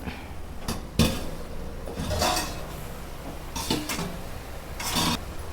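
Amaranth leaves (thotakura) fry in a pan while a utensil stirs them, giving several clanks and scrapes against the metal at irregular intervals over a low, steady sizzle.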